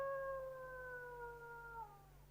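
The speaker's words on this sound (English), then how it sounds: "The dogs are restless. Must be the full moon." Drawn-out, mournful dog howl from a horror film, a single wavering cry sliding slightly downward in pitch over a low hum, faint and distant, with no voices.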